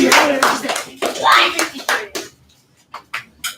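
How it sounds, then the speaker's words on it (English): Classroom applause for a student who has just demonstrated folding a paper box during second-period demonstrations, with a few scattered hand claps and talk woven through, then sparse separate claps that fade toward the end. "round of applause"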